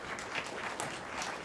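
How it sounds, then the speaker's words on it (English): Audience applause at a 2017 youth leadership academy graduation ceremony in Tallahassee: a steady, dense wash of clapping that fills the short moment without pause, with no clear talk over it. "Give yourself a round of applause."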